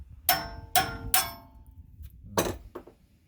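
A metal brake clip on a 1995 Ford F150 pops off with three sharp metallic clicks in quick succession, then a pause followed by two softer knocks, close and without talk.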